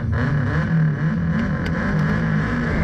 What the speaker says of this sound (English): it definitely sounds like he missed third gear